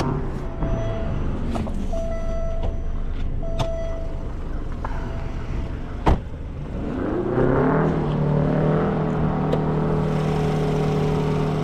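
The 2.0-liter turbocharged four-cylinder of a 2021 Alfa Romeo Giulia Ti hums steadily near at hand with a few sharp clicks, then revs up and settles into a louder, sustained drone.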